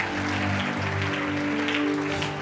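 A church congregation claps steadily throughout, a full, continuous applause honoring Jesus with a faint tonal hum underneath and no clear speech.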